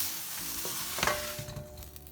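Chopped, washed broccoli hits hot oil in a pan, giving a steady sizzle with a sharper crackle as it goes in and some stirring scrapes, up close and without any voice.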